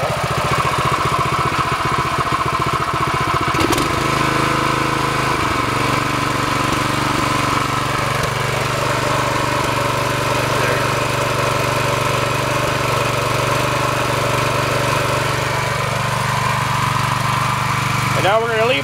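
A Predator 212cc 6.5 hp small engine chugs at a steady idle, then a clunk is followed by the engine climbing to a higher, smoother half-throttle drone, with a person speaking over it.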